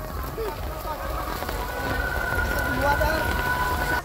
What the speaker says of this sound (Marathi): अशा धुवाधार मुसळधार पावसानं स्वागत केलेलं आहे.